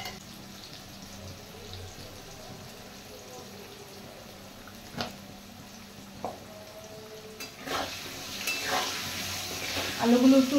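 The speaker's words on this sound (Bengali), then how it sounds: "আলুগুলো একটু লাল করে ভেজে নেব" Potato pieces seasoned with turmeric and salt frying in a pan, a quiet sizzle under occasional stirring scrapes and clatters that grow louder toward the end.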